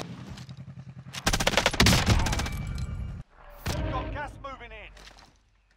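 Bursts of rapid SMG fire from the Nail Gun in Call of Duty Warzone, loud rattling volleys separated by a short pause, with an excited voice talking over the shots.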